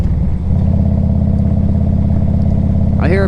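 Fuel-injected engine of a 1998 Harley-Davidson Electra Glide Classic touring bike running steadily up close, a loud continuous rumble with a quick rising rev or tone near the end.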